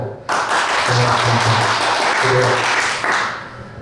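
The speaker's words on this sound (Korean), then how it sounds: "우리 세 분의 선생님도 감사 박수 한번 보내주겠습니다" An audience at a school year-end closing ceremony applauds three retiring teachers; a burst of clapping starts abruptly, holds steady and fairly loud for about three seconds, then fades, with some low voices underneath.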